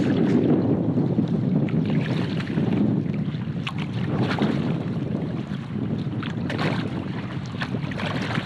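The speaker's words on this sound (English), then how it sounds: "The wind has just been relentless." Strong, relentless wind roars steadily across an open lake during solo canoe camping, with broadband gusting buffeting the microphone throughout and no talk.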